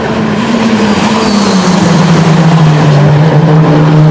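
Touring race car from the Rangoni Corse team charging downhill into a left-hander at the Nürburgring, a loud sustained engine drone whose pitch slides gradually lower as it brakes, heard close and continuous.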